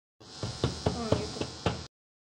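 A knife cuts through soft steamed khaman dhokla on a board, making six or so sharp, evenly spaced knocks close by, with a faint voice briefly heard between strokes.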